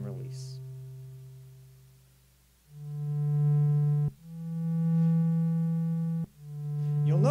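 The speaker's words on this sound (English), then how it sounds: "Give it a little bit more release so you can really hear that." Sustained, pure-toned notes from a Korg Minilogue synthesizer: one fades slowly away, then several held notes start in turn, each ending in a small click before the next begins.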